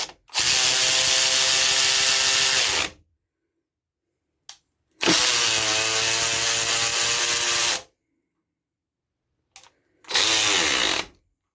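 Milwaukee 3/8-inch high-speed cordless ratchet running a fastener down and back up, three loud whirring bursts of a few seconds each, separated by silences with brief clicks, no talking.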